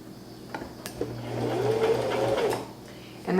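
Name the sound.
sewing machine stitching scrunchie fabric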